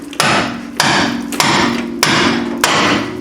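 Five loud, evenly spaced hammer blows, about one every 0.6 seconds, drive a steel pickle fork between the lower ball joint and the knuckle just below the boot on a 2002 Ford Ranger, each strike ringing metallically.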